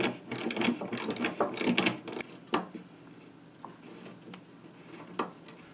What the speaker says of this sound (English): I'm detaching the seats using opposing wrenches. Once they break, they go pretty fast.